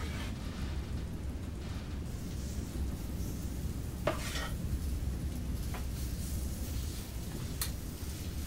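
Spoonfuls of waffle batter sizzling on a hot griddle while stuffed waffles are made, a steady broadband fry with a few faint metallic scrapes and taps over it, close and continuous.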